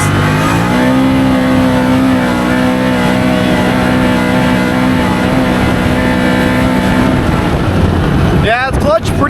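A Can-Am Maverick XMR Sport 1000 side-by-side on 30-inch tires, its engine droning loud and close at high revs in a steady sustained roar, with a brief burst of other noise near the end.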